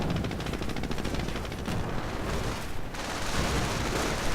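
Dense World War II video game gunfire, with continuous machine-gun bursts and rifle shots rattling steadily and loudly throughout.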